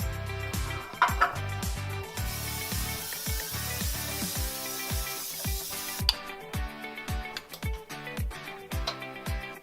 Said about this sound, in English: we're gonna spray the pan with some olive oil spray.